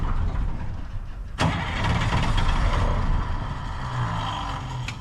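A diesel bus engine that sat unused for ten years cranks and catches with a sharp onset, then runs roughly at close range, the rumble wavering before easing back toward a rough idle.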